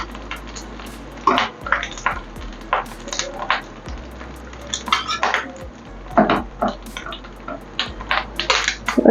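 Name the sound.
lifting fried fish egg fritters from the pan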